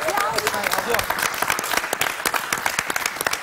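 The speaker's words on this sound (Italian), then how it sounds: "Facciamo un applauso a" Audience applause breaks out at the Sanremo festival, a crowd of rapid claps that stays dense and lively under a presenter's voice.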